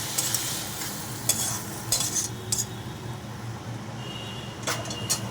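Boiled broad beans fried briefly in a pan, with a steady low sizzle under repeated scraping and clinking of a metal spatula against the pan, close and fairly loud.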